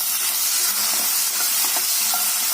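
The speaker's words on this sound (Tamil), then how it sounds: "2 நாட்டு தக்காளி கட் பண்ணி வச்சிருக்கிறேங்க, அதையும் இதோட சேர்த்து நல்லா வதக்கிடலாங்க" Small onions and cut country tomatoes sautéing in a pan for mutton kulambu, giving a steady close-up sizzle and hiss with faint stirring clicks throughout and no voices.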